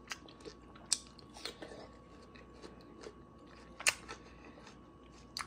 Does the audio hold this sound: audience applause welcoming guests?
no